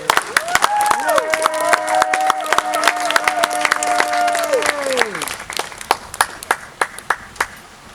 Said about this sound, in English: Let's have another round of applause for Reese Rice.